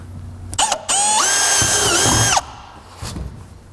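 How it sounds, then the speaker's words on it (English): A 5/16 drill bit bores a hole while a cargo carrier is fitted to a vehicle, a close, loud steady whine of about one and a half seconds after a few brief trigger blips, then quiet handling sounds. "I'm going to use a 5/16 drill bit to drill this hole."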